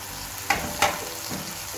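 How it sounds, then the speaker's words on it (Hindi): Chili powder, crushed chili, black pepper, cumin and oregano roast in a pan with a low steady frying hiss, broken by two sharp clinks of a spoon against the pan. "अब हम भूनेंगे इनको।"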